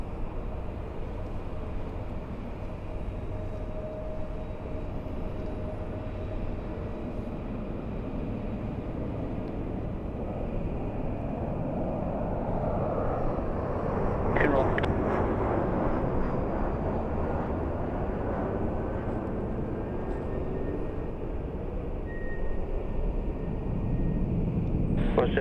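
Jet airliner taking off from runway 24 left at LAX: a steady, broad engine roar that swells gradually and stays loud throughout the clip, heard from a distance and continuous from start to finish.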